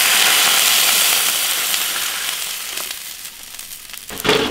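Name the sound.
water added to hot wok with pork trotters, sizzling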